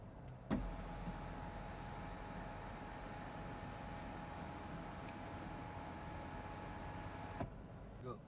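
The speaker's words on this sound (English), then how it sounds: "I have to first go back home, and only then can I open the sunroof." The electric sunroof of a Proton e.MAS 7 car opens with a steady, quiet motor whir that runs for several seconds, starting and ending with soft clicks, heard inside the cabin with no talk.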